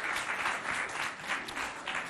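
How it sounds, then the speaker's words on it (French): An audience claps for jury members at a school event, a dense continuous applause with rhythmic swells and no talk over it. "On les applaudit bien fort."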